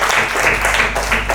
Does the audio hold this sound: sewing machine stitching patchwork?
no